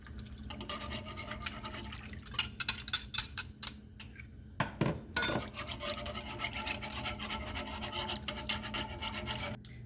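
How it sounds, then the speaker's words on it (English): Heavy cream poured into a pan for Marry Me chicken pasta, a soft bubbling, rasping stream with scattered clinks and stirring noises, fairly quiet and close. "I'm going to add 1 cup of heavy cream."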